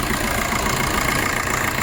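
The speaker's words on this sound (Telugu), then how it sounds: "ఇంజన్ సౌండ్ కూడా వినొచ్చు," A used car's engine idles smoothly and steadily at close range, a constant even rumble with no revving or speech.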